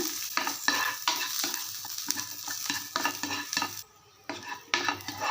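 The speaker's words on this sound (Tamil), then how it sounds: "பூண்டு தட்டி இதில் போட்டு அந்த பூண்டில் உள்ள அந்த ஈரணைப்பு போகிற வரைக்கும் இந்த எண்ணெயில் வதக்கிக்குங்க" Crushed garlic sautéing in hot oil, stirred steadily with a utensil scraping the pan in repeated strokes over a constant close sizzle, with one brief pause near the end.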